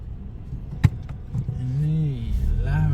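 Traffic on a street in San Marino, with a steady engine rumble and passing car noise around the vehicle, one sharp knock partway through, and faint talk underneath.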